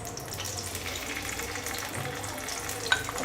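Ginger frying in a pan for chilli gobi, a steady close sizzle with soft stirring scrapes and a brief clink near the end, no talk.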